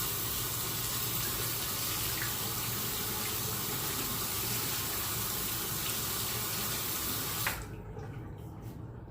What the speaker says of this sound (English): Okay, let me rinse this.